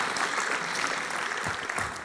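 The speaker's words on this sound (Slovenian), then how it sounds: "dajmo še en velik aplavz folklorni skupini Konjički" Applause for folklore dance groups at a national lifelong learning week opening event in Slovenia, a dense, steady clapping from an audience lasting about two seconds.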